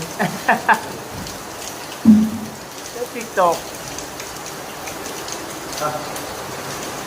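Steady rain patters across surfaces, with brief voices and a few short exclamations over it.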